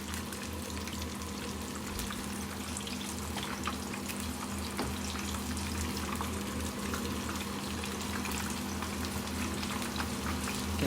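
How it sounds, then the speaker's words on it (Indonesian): Corn fritters (bakwan jagung) fry in hot oil, giving a dense, continuous sizzle and bubbling crackle with a steady low kitchen hum underneath, close and unbroken, no talking. "Baru digoreng ulang."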